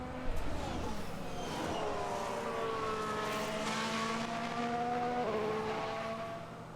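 Race car engines from the F1 Manager 2022 video game scream through rising and shifting gears at moderate volume, several layered engine tones sweeping upward with no talk over them.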